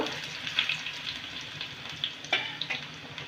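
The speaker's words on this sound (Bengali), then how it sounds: "রসুনটা তখন আমি একটু দিয়েছিলাম হাফ চামচ আর এখন হাফ চামচ দিলাম একটু রসুনটা নেড়ে নেব" Garlic and whole cumin fry in oil while a spoon stirs them, a soft, continuous sizzle with light, irregular scrapes and clicks, close and fairly quiet, no voices.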